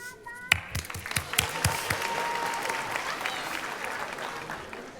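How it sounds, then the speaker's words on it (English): A crowd at a high school graduation ceremony breaks into applause, sharp individual claps at first swelling into a sustained, even wash of clapping that continues steadily. "Please let us give a round of applause for Say Yes recipients."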